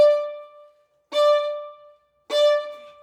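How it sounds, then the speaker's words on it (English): Violin played with martelé bow strokes, giving three separate accented notes on the same pitch. Each note starts sharply, rings on, and fades before the next begins, with brief silences in between and no voices. "That is the sound of a good martelet."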